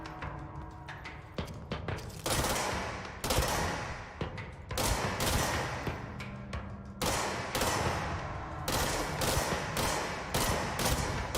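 A gun in the video game Control fires in short, punchy bursts separated by brief gaps, each volley a cluster of sharp close reports over a low game rumble, with no talk.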